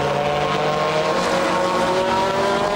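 GT race cars, Ferraris among them, racing at Monza in a 2007 International GT Open round: a loud, continuous engine roar with a sustained high-revving tone, close by and unbroken for the whole stretch.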